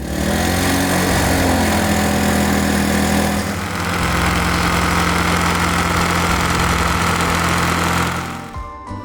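A motorcycle engine runs loud and close, a steady throbbing idle that shifts pitch briefly before cutting off near the end.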